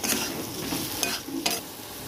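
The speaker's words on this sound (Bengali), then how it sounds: "এবার একটু ভালো করে নেড়ে চেড়ে নেবো" Fried potato and bitter gourd with chilli, turmeric, cumin and coriander powders being stirred in a pan, a steady sizzle under repeated scraping strokes of a spatula, close and moderately loud, no talking.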